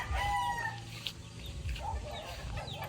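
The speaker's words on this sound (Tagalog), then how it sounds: "may mga manok dito, guys. Ayan, mga manok." Native chickens cluck and murmur nearby on a vegetable farm, a few soft overlapping calls against low background noise in a quiet outdoor setting.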